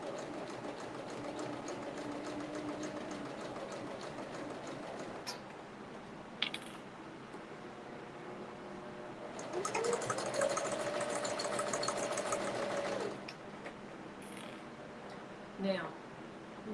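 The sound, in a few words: sewing machine stitching a child's purse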